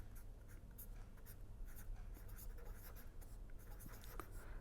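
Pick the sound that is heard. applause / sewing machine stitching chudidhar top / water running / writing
writing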